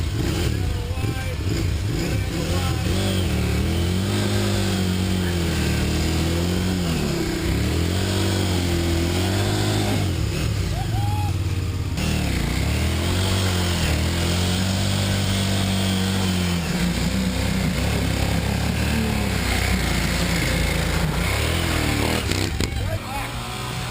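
An enduro adventure motorcycle tackles a big bog hole, its engine droning and rising and falling in revs for a long stretch, loud and close, with wind rush throughout.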